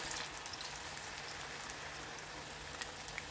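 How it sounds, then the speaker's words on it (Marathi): Moong dal bhaji fry in hot oil in a kadhai over a medium flame: a quiet, steady crackling sizzle like light rain, constant throughout, with no one speaking. "अलट पलट करून छान कुरकुरीत होईपर्यंत भजी तळायची"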